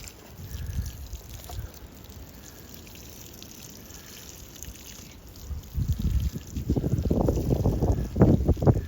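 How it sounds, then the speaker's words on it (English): Gusty outdoor wind buffets the microphone in a garden with seedlings, a steady rush that swells into loud, rumbling gusts toward the end, with no talking. "Today, it's pretty gusty out."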